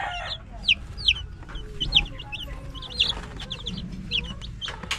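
Dekalb White and Rhode Island chicks cheep in sharp, repeated high peeps while hens cluck softly underneath, close by, with a busy, irregular rhythm.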